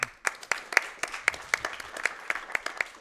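A small audience at a speedrun charity event claps in a sparse, fairly regular rhythm, about a dozen distinct claps over a few seconds, moderately quiet.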